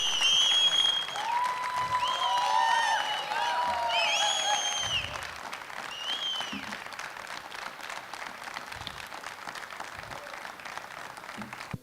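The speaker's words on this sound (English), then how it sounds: "give a big round of applause to our special guest" An audience applauds a special guest, VVS Laxman, at a leadership school talk, with dense clapping throughout that is strongest at the start and slowly tapers off, alongside some whistles and cheers.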